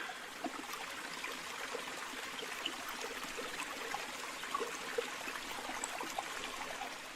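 Water draining from an established aquarium tank during a partial water change makes a soft, continuous trickling and splashing, faint and steady with small bubbling accents, no voices.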